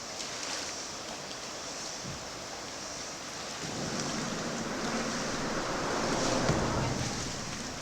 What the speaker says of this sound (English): Look out here at our put-in spot and look at the creek go by. It's rushing pretty good.